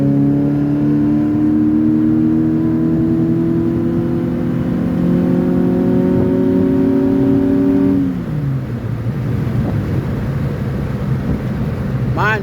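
A car engine held at full throttle on a dyno drones loud and steady, its pitch climbing slowly for several seconds before the revs suddenly drop off into a rougher, lower roar.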